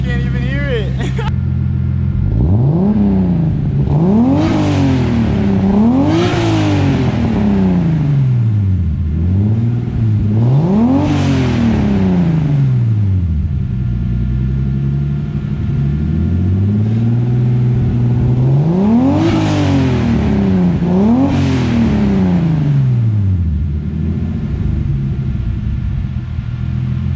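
A turbocharged BMW M52 engine in an E30 revs repeatedly, with loud rising and falling sweeps, each rev ending in a sharp hissing blow-off valve release, several times over nearly half a minute at close range.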